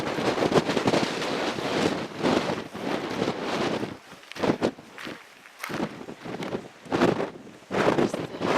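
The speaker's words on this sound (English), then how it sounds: "It is incredibly windy up here." Strong wind on a mountaintop near Denali, Alaska buffets the microphone in loud, uneven gusts, roaring and dropping away in bursts with brief lulls between them.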